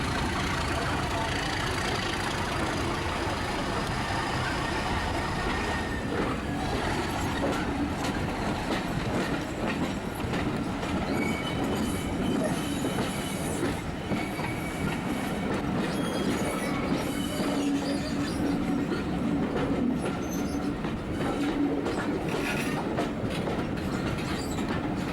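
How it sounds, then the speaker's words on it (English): A train pulled by a diesel locomotive on a heritage railway rumbles steadily along the rails, with clattering wheels, occasional squeals, and a continuous engine drone throughout. "a big blue diesel comes out of the siding and couples up to the train and"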